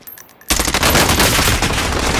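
Rapid automatic gunfire in the video game Call of Duty: Modern Warfare bursts in suddenly after a short quiet moment, then rattles on loud and dense without a break.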